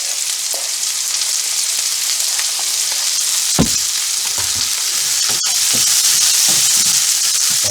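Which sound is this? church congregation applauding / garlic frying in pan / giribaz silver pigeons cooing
garlic frying in pan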